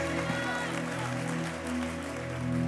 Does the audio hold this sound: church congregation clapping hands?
yes